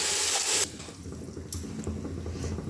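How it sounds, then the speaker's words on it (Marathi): Water is poured into a pot of sugar on the stove to make syrup, giving a brief loud rushing splash that quickly drops to a softer, lingering swirl of liquid. "साखर बुडेल इतके आपण पाणी घालणार आहे."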